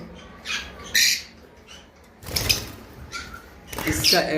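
Pet birds in a farm cage, including a white pair of budgerigars, give a few short squawks and chirps in bursts, while someone speaks nearby.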